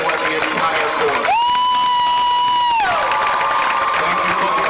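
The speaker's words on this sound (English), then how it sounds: "Round of applause for Amanda Hamill and the entire court." A crowd at a high school homecoming football game claps and cheers for the homecoming queen and court, steady loud applause with shouts and whoops, and a long sustained tone cutting through the middle.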